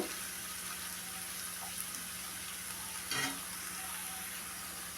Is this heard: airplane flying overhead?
no